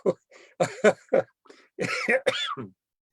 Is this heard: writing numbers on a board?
no